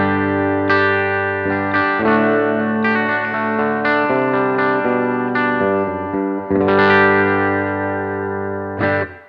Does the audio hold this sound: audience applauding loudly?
no